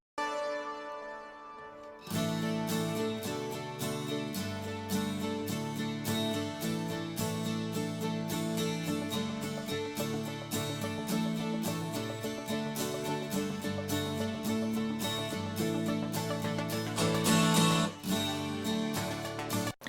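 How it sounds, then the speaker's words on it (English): Pulsing synth strings sit under acoustic guitars in the third verse of a studio song recording; the full mix plays loud and steady with a rhythmic pulse after a brief quieter opening, with no voices over it. "there's a little pulsing synth string thing happening in verse 3"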